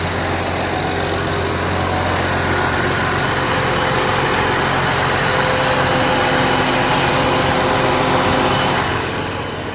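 A Case Magnum 310 tractor, a 310-horsepower machine with a US-built engine, idles with a steady, dense, loud diesel rumble that holds unchanged for the whole stretch before easing slightly at the end.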